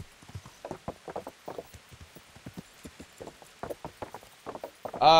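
Horse hooves clip-clop in a steady walking rhythm while riding in the Kingdom Come Deliverance video game, close and moderately loud, ending with a brief louder burst of sound.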